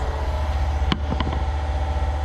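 A car engine idles low and steady, with a couple of sharp clicks partway through and no talking over it; the idle runs on without a clear cut-off.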